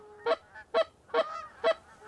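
Canada geese honking as they flock in over a hunting layout, four clear evenly spaced honks close by with faint background calls between them.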